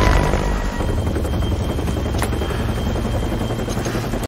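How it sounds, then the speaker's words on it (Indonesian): A loud, steady helicopter rotor thrum and engine roar, close and continuous, cutting off abruptly at the end. "Singkat cerita, setelah berpamitan, Asur dijemput helikopter untuk kembali ke kampung halamannya dan berkumpul bersama teman-temannya"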